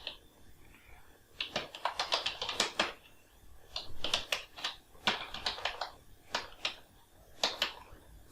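Bursts of quick keyboard tapping in irregular clusters with short pauses between, fairly close and moderately quiet, no talking.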